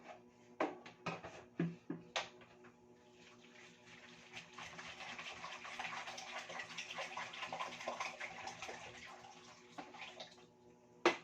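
Water splashes and pours softly while a young child is bathed at home, heard as faint, intermittent sloshing and dripping with a few sharper splashes near the start and end.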